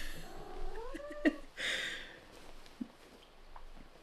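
A complaining cat lets out a drawn-out, wavering meow up close, followed by a few shorter, softer vocal noises and quiet pauses; the sound is fairly faint overall.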